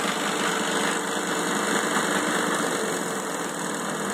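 A refurbished Shopsmith air compressor runs at about 30 psi, a steady dense mechanical whir and hiss that stays even and close throughout without pauses.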